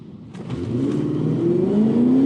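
An Infiniti Q45 sedan at a drag strip accelerates hard, its engine note climbing steadily in pitch and growing louder over a couple of seconds, with a brief dip near the start as a gear change goes through.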